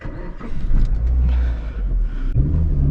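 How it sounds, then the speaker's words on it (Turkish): A Suzuki Swift car engine rumbles steadily up close, rising briefly near the end as the car pulls away on a slight uphill road, with no talking. "Arkadaşlar şimdi kemerinizi bağlayıp aracımızı çalıştırıp yola çıkalım"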